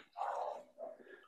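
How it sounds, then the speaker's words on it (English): A distant dog gives a drawn-out bark followed by a shorter, softer one, faint and somewhat muffled. "you hear these dogs barking?"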